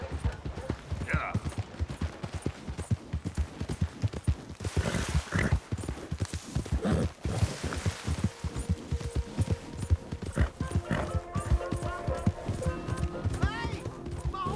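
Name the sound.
horse hooves and neighing, from video game Red Dead Redemption 2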